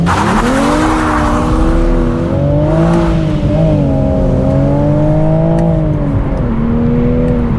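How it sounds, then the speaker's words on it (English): Toyota Supra GR with a manual gearbox accelerating hard from 0 to 100 km/h without launch control, a loud close engine note climbing through the revs with tyre squeal and shift breaks, no talking. "0 to 100. There's no launch control or anything in this car, so you just have to find that grip yourself."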